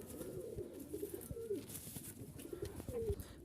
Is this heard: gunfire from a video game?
no